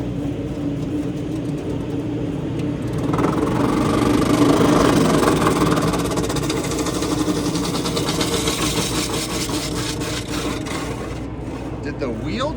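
A 120-volt exhaust fan switches on and runs with a steady motor drone and rattling hum that swells after a few seconds, then settles, loud and close with a buzzing edge throughout.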